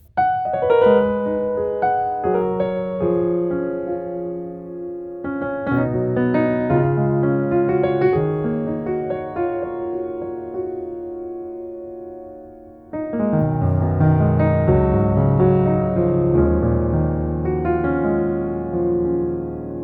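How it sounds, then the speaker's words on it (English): Keyscape's Softies piano patch, a soft felted virtual piano, played alone in sustained chords and melodic phrases, clear and close, with a brief dip before a fuller, lower passage. "This is the Softies piano."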